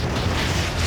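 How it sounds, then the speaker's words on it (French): An explosion produces a loud, dense roaring blast that fills the whole brief moment without letup. "Wow, quelle explosion!"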